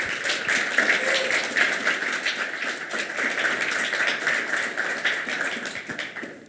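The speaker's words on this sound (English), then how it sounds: "a big round of applause to all of them" An evening audience applauds women in 3D printing, a continuous, even patter of many hands that holds steady before fading at the very end.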